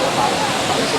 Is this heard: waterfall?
yes